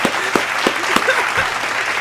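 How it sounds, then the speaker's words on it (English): A small audience claps in short rhythmic bursts, a few sharp individual hand claps over a light murmur of the room, brief and close. "Clap it up for my dog"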